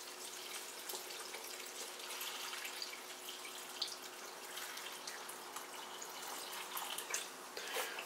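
Water is poured over raw vegan smoothie ingredients before blending, a steady, soft splashing stream that runs throughout without talk.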